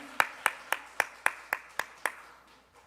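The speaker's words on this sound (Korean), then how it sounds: "위에서 저희가 박수 한번 드리도록 하겠습니다" Nine slow, evenly spaced claps ring out in a quiet church during a Wednesday worship service, each sharp and clear with a short echo, fading after about two seconds.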